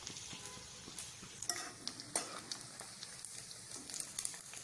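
Chicken pieces frying in a pan for chicken pickle, a faint steady sizzle with light scraping and stirring clinks from a utensil, close by and without talk.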